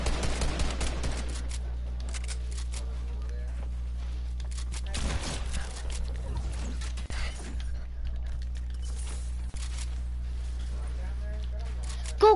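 Sniper fire in a video game, a scatter of sharp cracks and bursts over a steady low hum, with people talking throughout.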